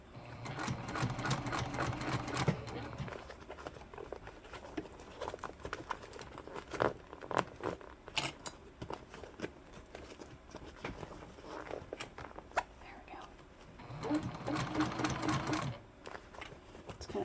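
A domestic sewing machine stitches through a foam-padded bag during final assembly, its fast mechanical chatter running in loud bursts at the start and end with slower, strained, halting stitches in between.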